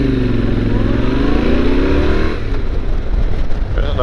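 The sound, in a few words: old Corvette car accelerating past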